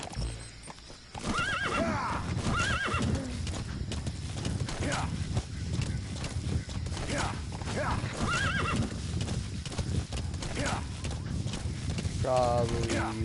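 Horse in the video game Metal Gear Solid V neighs repeatedly while its hooves clip-clop steadily across terrain, mixed with game ambience and someone talking throughout.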